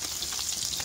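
Fish sizzling in a pan of butter mixed with oil, a bright steady crackle and spit, close and fairly loud, with no talking over it.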